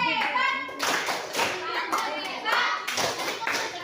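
A group of children in a classroom clap their hands together in quick rhythmic bursts, loud and close, with several pauses between rounds and a voice leading over them.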